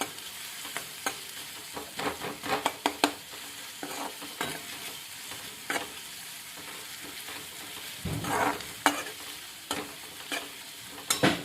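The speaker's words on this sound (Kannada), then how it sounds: "ಇದೊಂದು ಸ್ವಲ್ಪ ಗೋಲ್ಡನ್ ಫ್ರೈದಾಗ ಆಗಬೇಕು." Onions fry in a pan for a dosa side dish, giving a steady low sizzle broken by scraping stirs and a louder burst of crackling near the end, with no talking.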